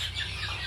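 Chickens on a poultry farm cluck in a busy overlapping chorus, close and continuous, with high calls layered over a low background hum.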